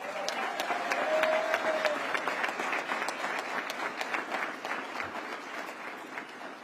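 Audience at a police community relations awards ceremony applauds an award recipient, a sustained, even wash of clapping from a crowd that holds steady and tapers slightly.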